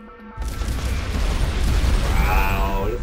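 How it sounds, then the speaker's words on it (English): Explosions boom in the VR game Darkfield played on an Oculus Rift DK2, starting abruptly as a heavy low rumble that stays loud and dense under whining mechanical tones for a few seconds. "Look at the explosions!"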